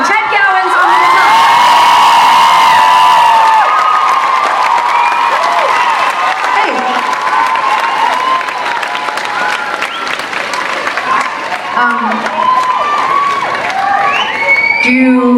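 A concert audience bursts into loud sustained applause with whoops and cheers after a guitarist is introduced, dense clapping continuing throughout with scattered shouts rising above it.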